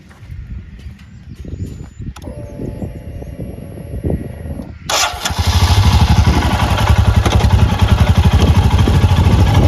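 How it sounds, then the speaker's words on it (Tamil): A Royal Enfield Himalayan motorcycle engine cranks and sputters, then catches and settles into a loud, steady idle with a rapid rumbling pulse. "இப்போ நம்ம பைக்கை ஸ்டார்ட் பண்ணிவிட்டு"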